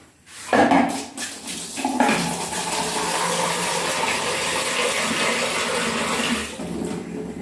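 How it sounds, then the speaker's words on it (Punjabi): A pot clinks, then water pours steadily into a tempered vegetable curry, splashing close up for several seconds before tapering off. "ਹੁਣ ਦਾਂ ਥੋੜਾ ਜਿਹਾ ਪਾਣੀ ਹੋਰ ਪਾ ਦਾਂ"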